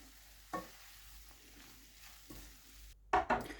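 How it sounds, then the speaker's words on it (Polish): Tortellini is stirred in a frying pan: a few scraping strokes over a low sizzle, with a louder cluster of clatter and scrapes at the end. "Przekładamy do patelni i mieszamy."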